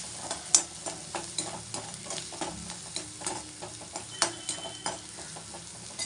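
Bharda sautéing in a pan over a low flame, a steady close sizzle with repeated scraping stirs of a spoon against the pan at an uneven rhythm, no voices.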